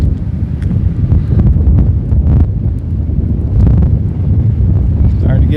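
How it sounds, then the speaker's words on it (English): Wind gusting outdoors near a county courthouse, a strong low rumbling buffet across the microphone that rises and falls steadily throughout, loud and close with faint background sounds. "Starting to get some wind picking up here."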